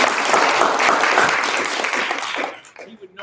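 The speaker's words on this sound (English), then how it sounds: "Let's give him a round of applause." Audience applause for a returning scorekeeper at a scripture-themed quiz competition night, loud and dense broadband clapping for about two and a half seconds before thinning out and fading, with some voices mixed in.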